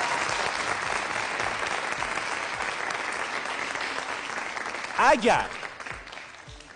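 Studio audience applause on a Persian-language comedy talk show, a steady broadband clapping that fills the clip, with a brief spoken word from a host cutting through near the end.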